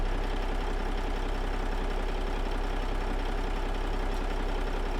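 A Cummins N14 high-horsepower truck diesel with a 10-inch exhaust idles steadily, a continuous low, even rumble at constant loudness throughout with no voices.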